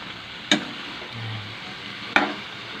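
Pork binagoongan with eggplant being stirred in a pan, steady frying sizzle with two sharp scrapes or clanks of the utensil against the pan, close by and without talk.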